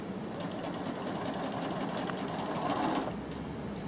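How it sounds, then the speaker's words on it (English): Sewing machine running steadily as it backstitches over the start of a seam on a Bondi top, a continuous close whirring motor hum with rapid needle clatter throughout. "I'll go past where I started and I will backstitch"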